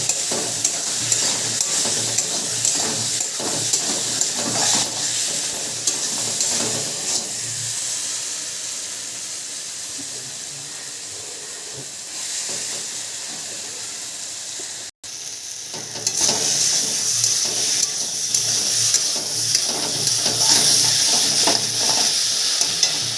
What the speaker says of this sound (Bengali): আলুটাকে দিয়ে আমি ভালো করে কষিয়ে নেব